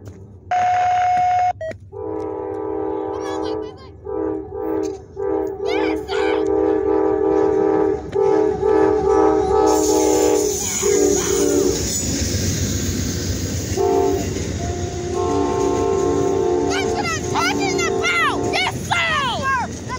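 Amtrak 19 passenger train in Austell, Georgia, blowing its horn in long, loud chords while the cars roll past with a rumbling, clattering wash; the horn repeats in several blasts over the passing noise, and brief voices are heard.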